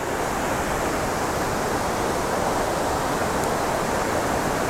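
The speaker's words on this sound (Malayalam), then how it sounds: "നല്ല ഒരുപാട് വെള്ളമുണ്ട്, വെള്ളം നല്ല കുത്തി ഒഴുകുന്നുണ്ട്" Abbi Falls near Agumbe, swollen with heavy monsoon flow, roars as a constant, loud, broadband rush of water with no let-up and no voices.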